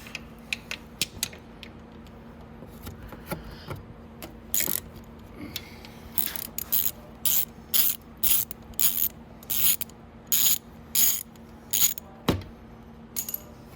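A hand ratchet removes the starter bolts on a Venom X22 125cc motorcycle, quiet scattered clicks at first, then a run of sharp, rhythmic ratcheting bursts close up.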